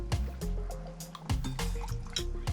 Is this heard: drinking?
yes